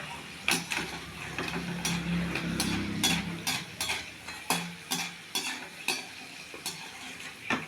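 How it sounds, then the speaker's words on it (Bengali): Peanuts fry in a pan over a gas flame with a soft, steady sizzle, while a spoon stirs and scrapes against the metal in sharp, regular clinks that grow more prominent toward the end. No one speaks. "বাদামটা ভেজে নিচ্ছি, দেখো কি হচ্ছে।"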